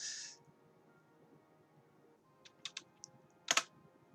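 Quiet computer keyboard typing during a League of Legends match, a few scattered clicky keystrokes in short bursts with a faint background hum, and no voice.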